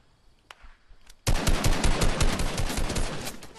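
Rapid automatic gunfire in a video game as a plane is shot down: a loud, dense burst of shots kicks in suddenly after a brief quieter stretch and continues to the end.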